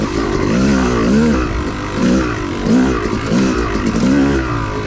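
Yamaha YZ250 two-stroke dirt bike ridden over whoops on an OHV trail, the engine loud and close, rising and falling in repeated rev surges as the throttle opens and closes.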